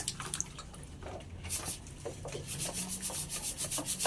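Drill-mounted brush bit scrubbing a surface, a soft gritty rubbing with uneven rhythmic strokes, close but fairly quiet, with no talking.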